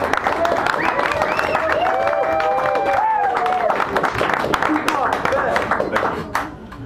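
A café audience at a poetry reading claps in a steady, dense patter that runs for several seconds, with a voice talking over it, before the applause thins out toward the end.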